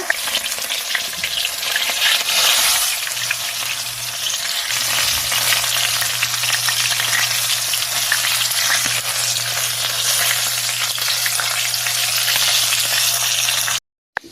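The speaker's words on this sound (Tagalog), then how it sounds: "Nahuman na kog luto sa fried chicken, guys." Sliced chicken pieces frying in hot oil, a loud continuous close crackling sizzle with a low steady hum beneath, running unbroken for about fourteen seconds before cutting off abruptly, no talk.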